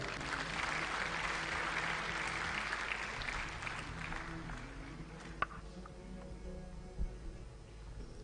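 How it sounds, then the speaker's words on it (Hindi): Congregation at a religious gathering giving a round of applause, steady clapping for about four seconds that fades out, followed by a quiet room with a few faint knocks and shuffles. "एक बार जोरदार तालियां"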